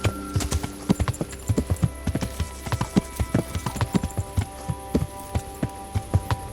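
Rapid, steady clip-clop of horse hooves in the video game Kingdom Come: Deliverance, close and crisp, with a faint droning tone underneath.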